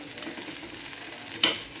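Soft, steady sizzle of rolls frying on a griddle pan, with a brief scrape of a spoon near the end.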